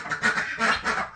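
Ducks kept with backyard chickens quacking close by, a quick series of three or four raspy quacks with no talk.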